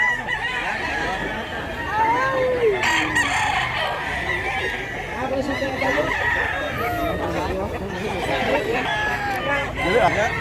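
Roosters crow and chickens cluck among poultry for sale at a market in Mantalongon, Barili, Cebu, with overlapping calls near and farther off under people talking.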